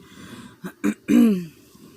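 A person clears their throat a few times, short rough bursts ending in a longer, gravelly hack.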